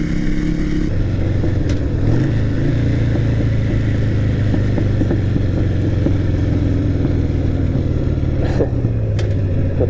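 A motorcycle's engine is held at a loud, steady idle and revved, with a few sharp exhaust pops cracking through the rumble near the start and again near the end.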